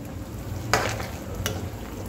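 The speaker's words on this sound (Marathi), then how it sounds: "आता आपण एकदा असं छान हलवून द्यायचं आहे।" Shengole dough dumplings boiling in a pot get stirred once or twice, giving a couple of brief scraping swishes over a steady low bubbling simmer, close and fairly quiet.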